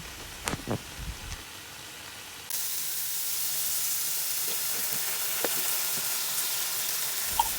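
Sardines and pechay stalks cook in a pan, a few sharp stirring clatters at first, then a steady, loud frying sizzle takes over and continues evenly to the end, close by with no talking.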